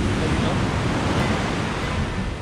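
Sea waves wash onto Dahican Beach in Davao Oriental, a loud, continuous roar of surf mixed with wind buffeting, close and steady for the whole stretch.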